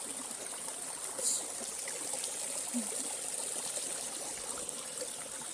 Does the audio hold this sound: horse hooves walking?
no